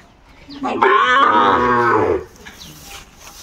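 A Sahiwal bull calf lets out a single loud, drawn-out moo close by, rising and then fading after about a second and a half, with quiet surroundings before and after.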